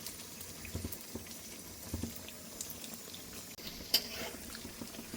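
Tel pitha, rice flour and jaggery cakes, deep-fry in oil in a kadai, giving a faint, continuous soft bubbling with scattered small pops and one sharper tap.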